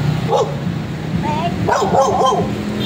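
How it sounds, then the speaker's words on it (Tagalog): A dog barks and growls several times nearby, short agitated yelps in quick bursts, with voices talking around it. "Galit yung aso."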